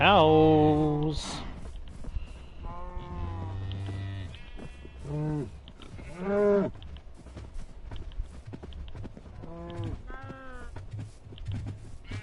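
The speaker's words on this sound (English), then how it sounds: "Oh, cows!" Cows mooing in the Minecraft video game, several drawn-out lowing calls in succession at moderate loudness over a steady background, some overlapping one another.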